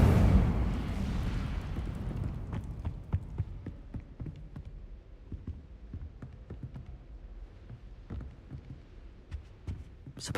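An Incendio fire spell is cast in a Hogwarts wizarding game, opening with a loud roaring whoosh of flame that fades into crackling, popping bursts and scattered impacts over the following seconds.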